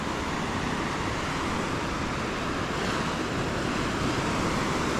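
Surf rolls onto a Puerto Rico beach in a loud, continuous roar of breaking waves heard up close, with no voices.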